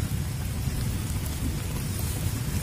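Steady rain pours down at a campsite near an old village, a dense, even hiss with a low rumble underneath throughout, loud and close with no voices.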